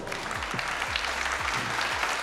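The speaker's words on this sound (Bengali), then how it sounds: "রেজওয়ানার জন্য একটা জোরে হাততালি হোক" An audience at a housing-society beauty pageant claps, a steady, dense burst of applause that holds at an even level throughout, with no voices over it.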